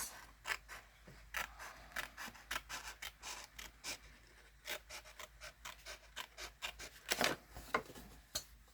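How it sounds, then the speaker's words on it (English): Large, very sharp scissors cut a paper panel along a groove, a close series of crisp snips and rasping slices in an irregular rhythm, with no voices. "I'm going to get these great big huge scissors of mine"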